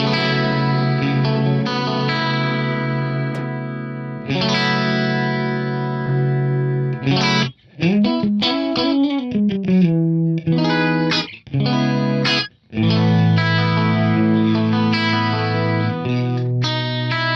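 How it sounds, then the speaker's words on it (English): An electric guitar runs through a Chorus D chorus pedal set to short delay times for a slick 80s chorus, playing sustained shimmering chords and short melodic runs with brief gaps, loud and close. "Lower delay times are going to give you more of that kind of slick 80s style chorus."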